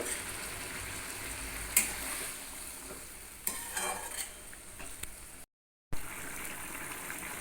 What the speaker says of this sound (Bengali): সেই বাটিটা ধুয়ে সামান্য পরিমাণে জল দিয়ে দিলাম